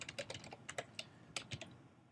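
Computer keyboard typing a username and password, a short run of crisp, close key clicks in uneven bursts with brief pauses between them.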